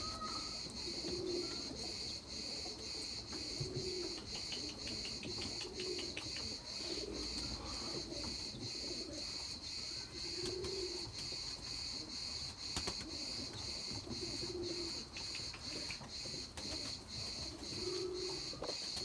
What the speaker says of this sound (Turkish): Ya kuşlar var ya yani şu dişiyi yumurtaya kovalıyor.